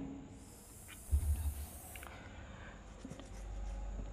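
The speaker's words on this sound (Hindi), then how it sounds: "यहाँ लिखेंगे" Marker or chalk scratching across a classroom board in a maths lecture, a soft hissy stroke lasting about a second, quiet and close, with faint room noise around it.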